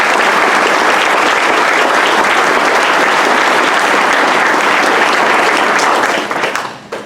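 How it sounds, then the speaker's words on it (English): A crowd at a candidates' forum gives loud, dense applause that holds steady for several seconds, then thins out and fades near the end. "Please join me in a round of applause."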